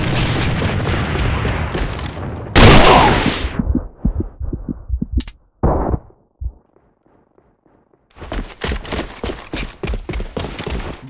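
Grenade explosions and gunfire in the shooter game AVA: a dense run of close, sharp blasts, then one big booming burst, scattered single shots and a brief lull before rapid firing resumes loudly.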